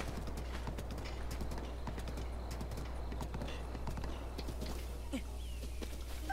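Horse hooves clip-clop steadily in The Legend of Zelda: Breath of the Wild as the mount trots through the Necluda-Lanayru region, a continuous rhythmic patter over a constant low rumble of game ambience.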